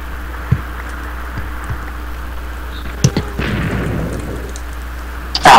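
A single explosion in the Minecraft video game bursts out after a few quiet taps, followed by a rushing, crumbling noise that trails off, then a sharp loud burst at the very end.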